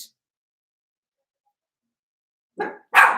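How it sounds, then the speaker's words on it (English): Dogs barking indoors near an open sliding door: after a long silence, two short, loud barks come close together at the very end. "they're barking because the big sliding door's open"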